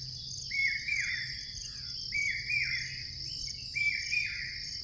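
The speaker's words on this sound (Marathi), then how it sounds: "कोयलचा आवाज." A koel calls from a tree, three rising repeated calls at an even pace, moderately distant over a steady background hum of insects.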